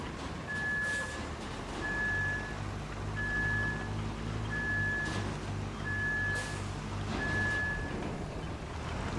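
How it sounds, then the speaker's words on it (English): Evenly spaced high electronic beeps repeat about six times over a low, steady engine drone as a truck reverses in the video game RoadCraft. "This beeping sound will get on your fucking nerves soon enough"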